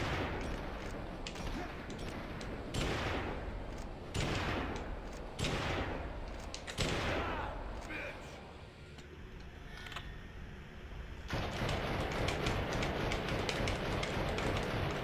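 Rifle fire in 3/3 Gun on GameCube, repeated sharp shots at a steady pace with bursts of rapid rattling fire and in-game effects, loud and close, with no speech.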